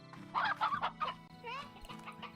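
Briar hens in the video game Slime Rancher cluck in a flurry of short, bright calls, with several overlapping bursts and a quieter chirpy trill partway through.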